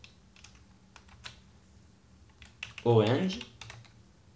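Keystrokes on a computer keyboard while entering CSS code, a scatter of faint light clicks followed by a brief quicker burst, with someone speaking French over part of it.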